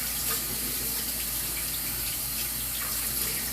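Hot tap water runs steadily from a faucet into a sink as hands are rinsed, a continuous close hiss and splash with no speech.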